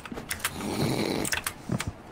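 A character snoring in the video game Content Warning: one raspy, drawn-out snore rising in the middle, framed by small clicky sounds before and after.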